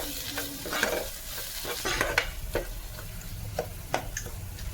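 Ground masala of garlic masala and mutton masala being stirred and roasted in a pan for spicy mutton sukha, with a steady close sizzle broken by repeated scraping strokes of the spoon.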